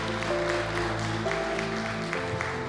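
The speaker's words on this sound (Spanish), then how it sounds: "Dale un aplauso al Señor." A church congregation claps together, a steady dense patter of many hands filling the room throughout, with music sustaining underneath.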